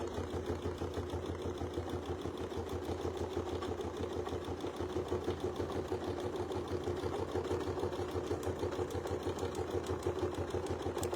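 A sewing machine runs steadily through a quilt block, its rapid needle chatter holding an even, continuous rhythm for the whole stretch, close and moderately loud, with no talking.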